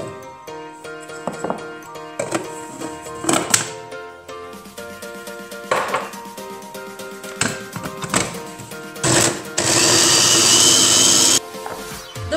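Kitchen blender pureeing raw potatoes for a whole-wheat focaccia, heard in loud bursts of whirring and clattering that start and stop, ending in a longer sustained high-pitched run.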